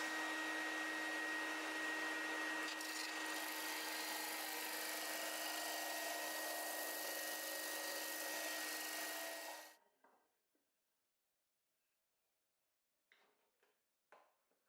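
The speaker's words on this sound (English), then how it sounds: "The joint for the lid is marked out and sawn through on the bandsaw. and then finished off on the disc." A bandsaw cuts through the lid joint of a wooden puzzle box, a loud steady whine with a constant hum for about ten seconds before stopping, followed by silence and a few faint knocks and scrapes.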